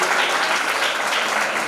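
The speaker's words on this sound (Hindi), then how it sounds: "जोरदार ताली बजाइए।" Loud, dense applause from a large audience at a Shiv Mahapuran religious discourse in Ujjain, steady and sustained throughout with no break.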